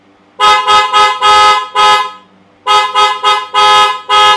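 A Ground Zero Automotive twin loud horn on a car honks in a series of short and longer blasts, two groups separated by a brief pause, with a bright, harmonic dual-tone sound.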